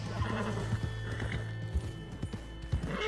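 Horse pulling a carriage in Red Dead Redemption 2 Online, its hooves clopping in a steady trotting rhythm, close and clear, with snorting and whinny-like calls over a low rumbling game background.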